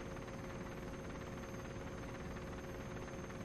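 Helicopter in the video game Operation Flashpoint: Dragon Rising, a steady, loud rotor and engine drone filling the clip without a break, heard from inside the aircraft.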